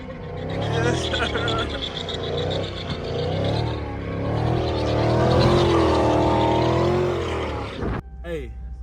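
A Dodge Hellcat Jailbreak doing a burnout on new tires, its engine roaring loud and sustained with rising and falling revs, people talking over it, cutting off sharply near the end.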